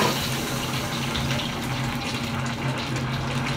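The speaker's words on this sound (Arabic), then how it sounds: "هنزل بكيلو من اللبن الايه الجاموسي اهو" Boiled buffalo milk is poured into a pot in a kitchen, giving a steady, continuous liquid gush that runs unbroken close by with no talking.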